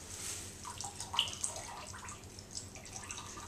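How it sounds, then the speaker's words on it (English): Water trickling and dripping from a wet plaster cast roll as it is wrung and twisted, a faint wet splatter with a few brief drips, close and quiet. "you leave a little bit more water in there, like so. Twist."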